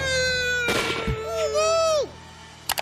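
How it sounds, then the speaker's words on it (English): A cartoon gunshot from South Park hits as a sudden loud bang over tonal music or voice-like sounds, followed by a falling whistle-like tone and two short sharp clicks at the end. "Kenny gets shot in the forehead, single gunshot wound"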